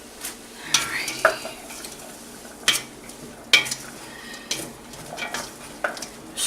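A spoon stirs potato soup in a pot, scraping and knocking against the pot at irregular intervals, with a few sharp clinks close by and a quiet simmer underneath.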